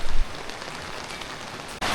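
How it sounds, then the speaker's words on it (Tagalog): Heavy rain pours steadily onto surfaces during flooding, a dense hiss throughout that briefly dips near the end and then returns louder. "Lumakas na yung ulan."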